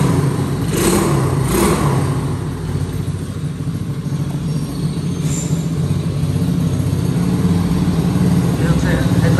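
A Mars 125cc off-road ATV engine runs steadily up close at a loud, even idle with a few light revs, while someone talks over it.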